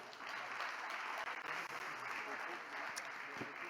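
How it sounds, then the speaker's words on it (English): An audience at a tech-for-humanity pitch competition applauds the finalists, a faint, steady wash of clapping from a distance with a voice talking faintly over it. "Give them a round of applause."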